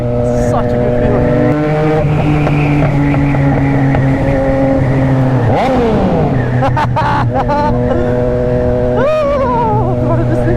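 Yamaha MT-09 SP motorcycle engine revving while riding, a loud sustained buzzing drone that climbs and drops through gear shifts, with wind noise and a rider's voice over it.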